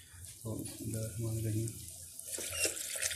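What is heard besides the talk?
water being poured into a cooking pot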